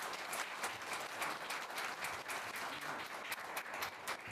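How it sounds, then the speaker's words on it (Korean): Steady, moderately loud applause from an audience at an academic policy conference welcoming a speaker, a dense patter of many hands clapping continuously without voices. "그냥 힘에 닿는 것 박수로 환영해 주시면 좋겠습니다."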